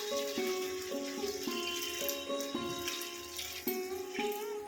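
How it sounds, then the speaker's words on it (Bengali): Water poured from a bowl into a cooking pot of salted potatoes, a steady close trickle lasting a few seconds, fairly quiet with faint kitchen clatter and no talking. "এবার পরিমাণ মতন জল আমি এর মধ্যে অ্যাড করছি"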